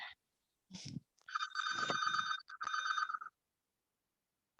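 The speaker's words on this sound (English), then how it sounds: "I will let that ring because I don't think I've ever heard the phone ring while I'm here." A telephone bell rings in two long electronic bursts with a short gap between them, fairly faint and heard alone with no talk over it.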